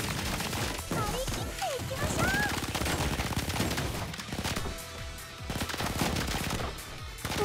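Dense, continuous gunfire and battle effects in a Blue Archive raid fight against Hiero, with rapid shots layered with game music and a voice speaking over the action.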